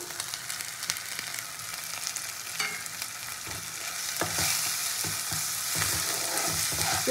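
Ground red chilli, coriander, cumin and Kashmiri chilli powders fry in oil for Katla fish kasundi, with a close crackling sizzle, scattered spatula scrapes and clicks, and the sizzle swelling louder toward the end.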